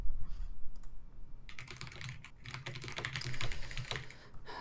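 Rapid clicking of a computer keyboard, typed in bursts with short pauses in between, fairly close and alone, during a UK vs USA showmatch.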